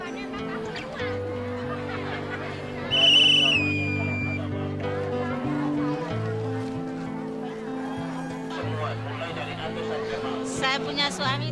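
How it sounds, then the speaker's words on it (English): Sharp whistle blown at a village market to open the bartering, a short bright burst with a falling tail rising above a busy babble of crowd chatter and music-like tones. "a whistle marks the start of the bartering"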